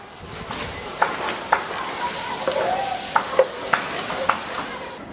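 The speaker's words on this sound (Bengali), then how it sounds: "কিছুক্ষণ ভেজে এই ফুলকপিগুলো যখন একটু পোড়া পোড়া দাগ লাগবে" Cauliflower florets and mixed winter vegetables frying in oil with salt, a steady soft sizzle broken by several sharp spatula scrapes and stirring taps, close and moderately loud.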